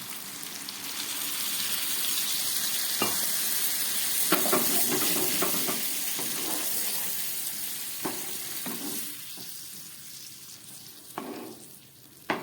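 Water poured into mustard paste frying for a parshe fish curry sets off a loud, steady sizzle and hiss that slowly eases, with a few sharp utensil taps against the pan.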